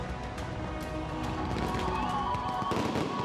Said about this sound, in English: fireworks exploding from the sides of the building